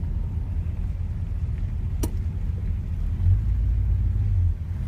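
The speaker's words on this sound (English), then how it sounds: "oh, look, some cars are already coming back" Low rumble of cars passing on a road during a fall colors car parade cruise in Bishop, California, with one vehicle growing louder and nearer for a second or two before fading.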